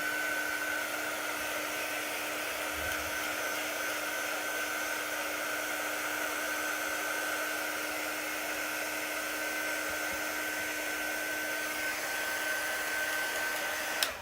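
A hair dryer blows steadily while drying chalk paint on furniture, a constant whirring hum with a fixed pitch running unbroken for about fourteen seconds, then clicking off at the end.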